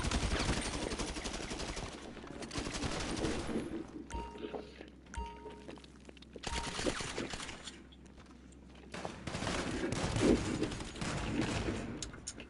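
Gunfire in GTA 5 cracks out in dense, loud bursts of rapid shots, falling quiet between volleys before resuming, with occasional metallic thunks amid the game's background sound.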